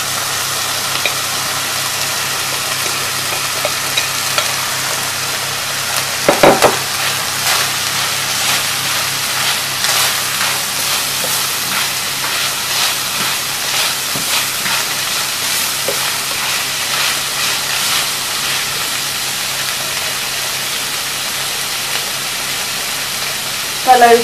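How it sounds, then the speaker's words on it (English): Bacon and onions frying together in a pan, a continuous soft sizzle with faint crackles and the occasional clatter of stirring, steady and moderately close. "after about 10 minutes of the bacon frying, I'm going to add in the onions"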